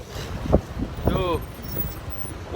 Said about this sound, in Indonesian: udaranya dingin banget, 21 derajat sih, tapi anginnya itu yang luar biasa